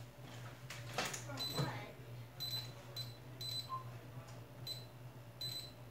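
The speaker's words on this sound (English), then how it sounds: "That's my alarm." A household alarm going off in the morning, bright repeated beeps in short evenly spaced pulses, fairly faint beneath a steady hum, with a voice talking near the start.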